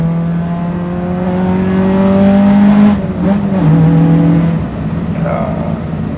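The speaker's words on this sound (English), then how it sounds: "Let's listen to the car for a bit" Honda with a B18C engine running nearby, a steady loud engine note that rises in pitch, then drops and settles into a lower hum, with no talk over it.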